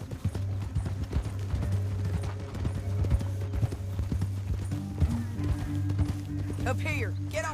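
Horse hooves clip-clopping steadily in the video game Red Dead Redemption 2, a continuous rhythmic trot under a low hum and game music, with voices speaking over it.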